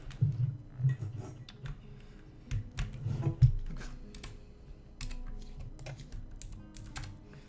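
Keyboard keys clatter in uneven bursts while someone types through key bindings for Dwarf Fortress at a computer, close and moderately loud with short pauses between clusters.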